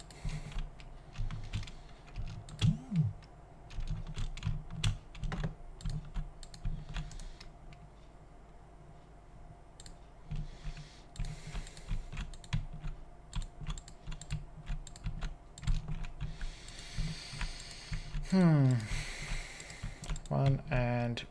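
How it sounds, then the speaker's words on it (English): Typing on a non-mechanical computer keyboard, soft irregular key clicks running through most of the stretch at moderate level, with background hum and brief voice-like sweeps near the end. "if you hear keyboard sounds in the usual podcasts"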